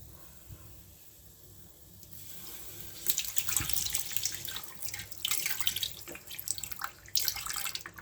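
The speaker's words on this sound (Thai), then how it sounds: "เตรียมการใส่ น้ำกะทิลงไปค่ะ" Coconut milk pours into a pot of curry paste for Thai massaman curry, a steady liquid splashing and trickling that starts after a quiet moment and continues close by, with no talking.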